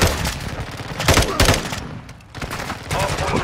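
Gunfire in Call of Duty: Modern Warfare II, loud, rapid bursts of automatic shots close by, with a brief lull in the middle before firing resumes, and a voice talking over it.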